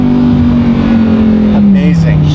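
A Lamborghini Evo engine drones loudly and close on a downshift, its steady tone sliding lower as it settles into the lower gear, with talking over it.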